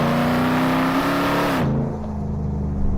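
A Hennessey Mammoth truck accelerates hard along a straight section, its engine note rising steadily before dropping abruptly, loud and close, with no talk.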